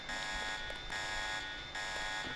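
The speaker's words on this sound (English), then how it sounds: "Not a big deal, alarm's already going off." A facility alarm in the Deus Ex video game blares as a continuous high electronic buzz, repeating in long pulsed cycles with brief dips between them, loud and alone.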